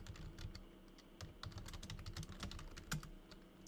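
Quiet, uneven clicking of keys on a computer keyboard, with bursts of quick strokes and short pauses, soft and slightly distant over a low background murmur.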